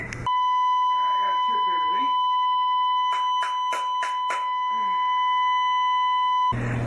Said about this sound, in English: after a lot of chirping and alarming and squealing and beeping.